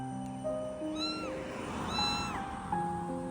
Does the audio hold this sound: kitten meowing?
yes